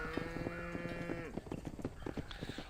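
Cattle in the video game Red Dead Redemption give a drawn-out moo with harmonic tone, followed by busy scattered clatter like hooves and ranch activity, steady and fairly close.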